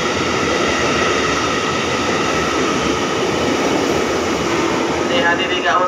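An electric KRL commuter train rumbles and hums steadily nearby at Manggarai Station at night, a continuous loud roar with a faint announcement voice underneath.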